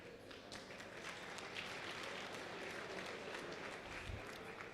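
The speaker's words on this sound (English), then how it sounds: "Thank you for the round of applause." A faint, steady round of applause rises from an audience at a formal event with embassy guests, clapping continuously without a clear break.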